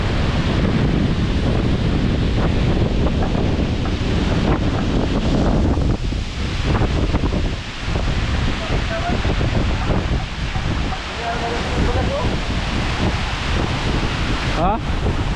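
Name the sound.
strong wind at the shore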